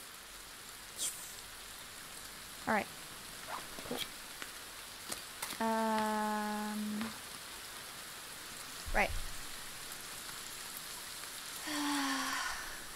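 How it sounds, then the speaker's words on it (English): Steady rain patter in the video game The Forest, a soft continuous hiss running through the whole stretch beneath short spoken remarks, brief interface tones and game sounds. "Oh my god, it's raining!"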